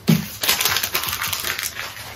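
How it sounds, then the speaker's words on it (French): Rapid, uneven scratchy strokes of sanding on a wooden Egyptian-style chest, close up, with a gritty rasp repeating in quick succession. "on va poncer"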